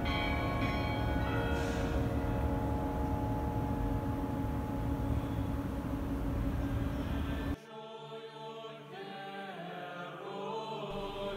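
Church bells ring for a festive liturgy at the Assumption Cathedral in the Moscow Kremlin: a loud, dense, sustained peal with overlapping tones, thinning to clearer, sparser strikes in the final few seconds.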